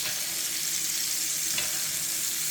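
Steak searing in a hot pan, a loud, even sizzle with a steady crackle that swells briefly midway, close by and uninterrupted by speech.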